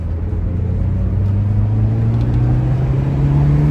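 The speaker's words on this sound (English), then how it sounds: "Builds great boost. Boost just spools right up." A 1988 Saab 900 Turbo five-speed convertible pulling hard, its engine note rising steadily in pitch as the turbo boost spools up, loud and close with a constant throaty rumble underneath.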